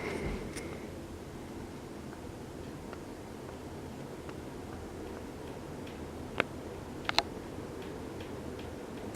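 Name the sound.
Emerson ceiling fan ticking noise near the canopy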